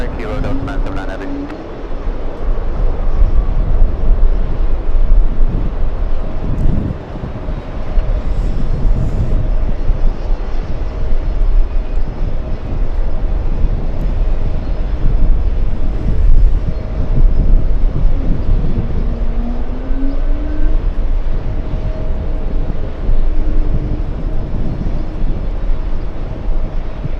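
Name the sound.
Emirates Airbus A380 jet aircraft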